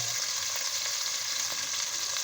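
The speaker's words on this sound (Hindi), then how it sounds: "इसको अच्छी तरह मैं फ्राई कर रहा हूँ" Cinnamon stick, black cardamom, black pepper, cloves and bay leaves frying in a pan for desi chicken yakhni soup, a dense continuous sizzle with light stirring scrapes, no talking.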